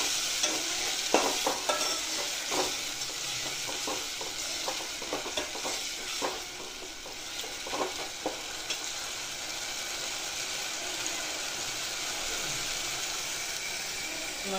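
Food stirred and fried in a pan, a steady bright sizzle with repeated scraping strokes of the spoon in the first half, then settling into an even, continuous hiss, close and with no voices.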